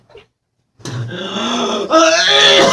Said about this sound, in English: Sounds like he's having trouble breathing.